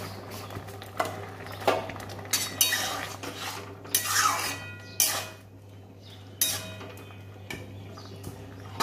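A pot of lentil dal with bottle gourd being covered with a lid, giving scattered metallic clinks and clatters of cookware at close range over a steady low hum, with no voices.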